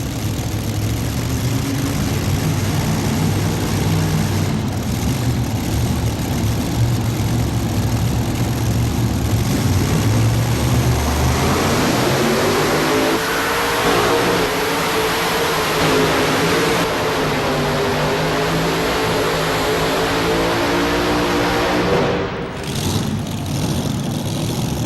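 Modified tractor-pulling engines, three blown Arias units on one machine, roar loud and continuous for the whole stretch, with the pitch shifting midway as they rev and hold under load.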